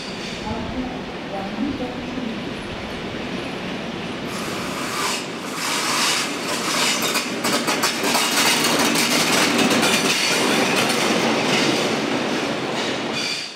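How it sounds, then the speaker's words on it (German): A Rhaetian Railway shuttle train rolls into Samedan station with rumbling wheels, rhythmic clickety-clack and squealing, growing louder as it approaches while a narrator speaks over it. "Hier kommt der Pendelzug in Samäden an."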